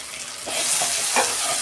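Ginger, garlic and dry chilli paste hits a pan of fried onions, a brief, close, loud sizzle that swells midway and holds steady with no talk.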